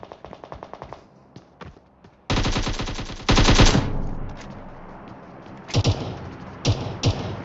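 Gunfire in PUBG Mobile: rapid bursts of automatic fire and single sharp shots, some quieter and distant, others loud and close, in uneven clusters with brief gaps between them.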